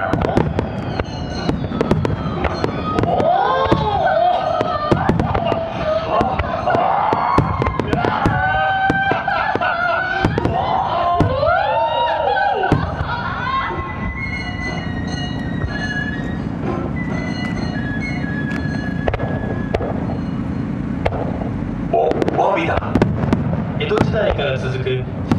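Fireworks at the Omagari display launch and burst against the night sky, sharp cracks and whistling rises piling up in a dense volley before thinning into scattered bangs and crackle over a low rumble.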